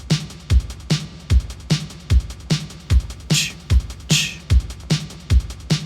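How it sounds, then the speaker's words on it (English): Post-punk drum pattern programmed in FL Studio, with a steady punchy kick and snare backbeat under a triplet hi-hat pattern that has deliberate gaps, looping evenly with no talk over it. "You're probably going to notice that there were some holes in that triplet hi-hat pattern"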